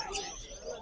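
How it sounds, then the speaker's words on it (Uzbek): Birds being sold at a bird market in Margilan call faintly in a short, busy stretch, with a brief chirp over a steady crowd murmur and voices. "Mana Namanganlik akalarimizdan katta qushlar."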